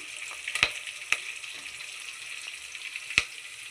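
Tomatoes fry in a pan for fish curry with a soft, steady sizzle, marked by a few sharp spoon clicks against the pan.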